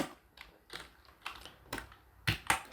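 Short bursts of computer keyboard typing while code is being deleted, irregular clicks and a few louder key taps clustered near the end, fairly close and quiet, with no talking.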